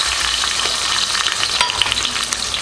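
Small shallots fry in oil in a pan while cooking chicken gravy, giving a dense, loud, steady sizzle with faint stirring clicks, close up and without voices.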